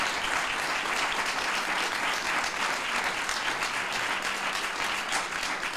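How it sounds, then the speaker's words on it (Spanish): An audience applauds after a debate between Santander and Indexa on active versus index investing, a dense, even wash of clapping that holds steady for several seconds. "os vamos a dar un aplauso primero antes de pasar a las preguntas"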